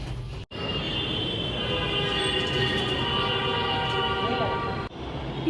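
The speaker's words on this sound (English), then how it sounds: "Here comes the metro." A metro train pulls into a station with a loud, steady rumble and a rising whine under it, close by and continuous, with brief dropouts near the start and end.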